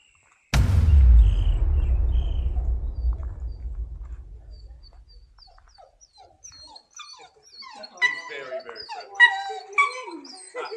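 A dog at a beer shed and heritage centre in Echuca, Australia, lets out one loud close bark that rings out and fades. Later come softer high whimpers and whines, with a few faint bird-like chirps around it.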